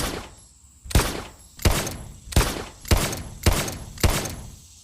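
Replica Military and Police 45 pistol prop firing a magazine: six sharp, evenly spaced loud reports about 0.7 seconds apart, each a hard crack with a brief decaying tail, no talk.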